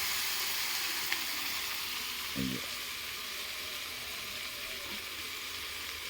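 Cardamom pods sizzling in hot oil while duck meat kala bhuna is cooked, a steady bright frying hiss throughout with a brief stir or clatter midway, close and even.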